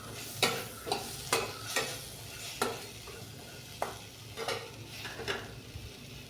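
Spoon scrapes and stirs white ghevda beans in a pan, with sharp, regularly spaced strokes over a soft background sizzle at close range.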